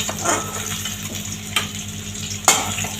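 Brinjal pieces frying in hot oil, a continuous close sizzle with a few sharp metallic knocks and scrapes of a utensil against the pan, no voices.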